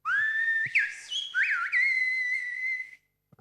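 A single Silbo Gomero whistled call from La Gomera, the traditional whistled language: a loud, close, sustained whistle lasting about three seconds, with sliding and rising pitch inflections, alone with no talk.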